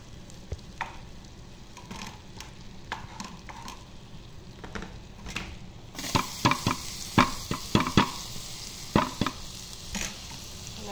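Garlic sizzles in melted butter in a pan, a soft steady hiss that grows louder partway through as stirring clatters and scrapes come in, close by and with no talk.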